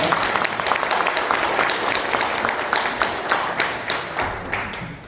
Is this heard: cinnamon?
no